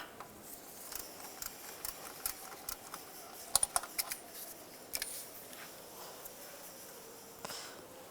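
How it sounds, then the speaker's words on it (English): A 22mm socket wrench loosens a PCV valve on a 2010-2015 Toyota Prius, giving a series of quiet, irregular ratcheting clicks close by, some in quick bursts. "take a 22mm socket. And loosen up the PCV valve"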